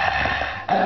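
Dogs growling and whimpering nearby in a residential neighborhood, a dense continuous grumble lasting under a second with a brief dip near the end, no speech over it.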